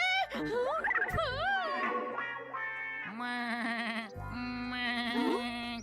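A cartoon goat in a Hindi-dubbed Shinchan episode bleats in a series of loud, wobbling, pitch-bending cries, voiced with playful sound effects and continuing almost without pause.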